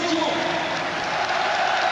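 Stadium crowd at the Parc des Princes applauding during a PSG versus Bayern Munich Champions League football match, a broad, steady wash of clapping under a commentator's voice.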